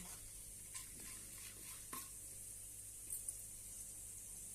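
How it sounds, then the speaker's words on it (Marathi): Dal sautéing in a pan for palak onion chutney, a faint steady sizzle with a few light knocks and scrapes of stirring. "छानपैकी आपण हे परतून घेऊया छानपैकी डाळ परतून घेतलेली आहे"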